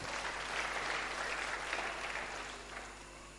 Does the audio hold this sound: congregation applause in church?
yes